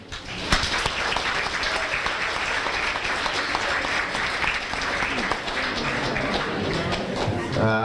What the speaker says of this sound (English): So I'd like to give them a big round of applause as well.